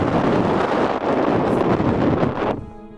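Sudden gusts of wind sweep through the Kyrgyzstan wilderness, a loud, steady roar buffeting the microphone for about two and a half seconds before dropping away abruptly.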